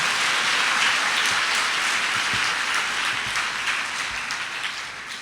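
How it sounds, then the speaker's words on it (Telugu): A church congregation clapping in praise to God at an anniversary service, dense sustained applause from many hands, fairly distant and even, tapering slightly at the end. "చప్పట్లు కొడుతూ దేవునికి స్తోత్రం చెప్తారు."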